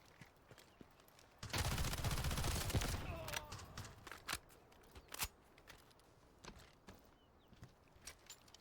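Rapid automatic gunfire in the Delta Force video game erupts in a loud sustained burst, then breaks into scattered single shots and short volleys that fade against a quiet background.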